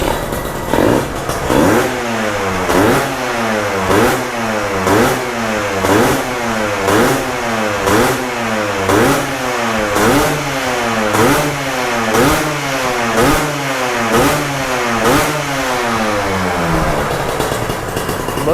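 A Kawasaki KIPS two-stroke motorcycle engine revs loudly and close by in a steady, rhythmic cycle, repeatedly rising and falling with no talk over it.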